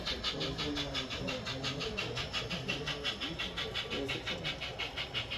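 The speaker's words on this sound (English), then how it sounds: "So many trains are running today." Model trains running on a slim gauge model railroad layout, giving a steady rhythmic clicking and rolling rumble that continues the whole time at moderate loudness, with faint background chatter from people nearby.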